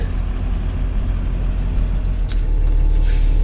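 A loaded road truck carrying a big load of wood reverses, its heavy engine droning steadily and loudly up close with a low rumbling idle throughout, no voices over it.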